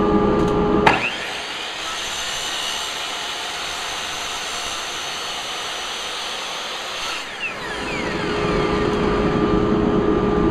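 A power saw trims a thin strip off the edge of a wood board while building a planer feed table, a loud steady whine and cutting rasp running about six seconds between motor start and spin-down.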